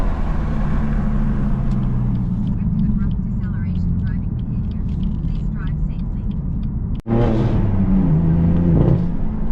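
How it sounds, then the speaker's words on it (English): A car engine drones low and steady while someone talks over it, then swells into a louder rev toward the end after a brief cut. "I love this car, bro."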